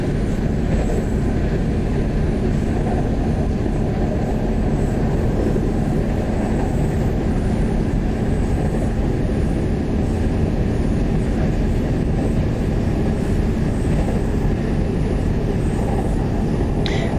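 A Class 170 Turbostar diesel train in the OpenBVE train simulator drones loudly and steadily, a constant low rumble with a faint high whine above it, unbroken from start to finish.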